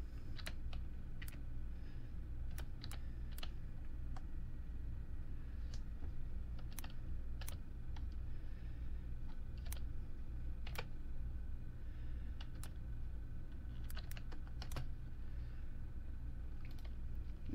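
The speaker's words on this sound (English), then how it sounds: "I'm typing one hand." Soft, quiet clicking of a computer keyboard typed with one hand, irregular keystrokes in scattered bursts over a low steady background hum.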